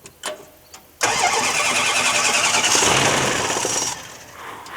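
Old Dodge D100 farm-find truck engine cranking, catching and starting: a few faint starter cranks, then a sudden loud roar that settles into a steady running rumble and eases off near the end, with no voices.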